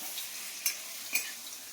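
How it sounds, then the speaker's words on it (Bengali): Onions fry steadily for a loitta fish dish, a continuous hissing sizzle with two brief sharp spatula clinks against the pan, close and even, without speech. "লোটে মাছের জন্য আমি পেঁয়াজটাকে ভালো করে ভেজে নিচ্ছি"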